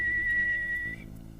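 A voice imitates a whistle with a steady high tone held for about a second, then a lower breathy tail, close and fairly loud.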